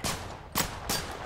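Three sharp bursts of automatic weapons fire in Total Conflict: Resistance, evenly spaced and loud, within about a second.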